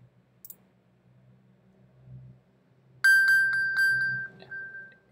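A loud electronic alert tone from an iPhone's Find My iPhone feature sounds in a rapid series of bright pulses, following a quiet stretch of faint clicks and low background hum.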